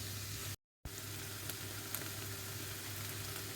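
Salsa ingredients frying over raised heat in a hot pan give a steady, close sizzle with a low hum beneath, broken once by a short dropout, then running on evenly with no talk.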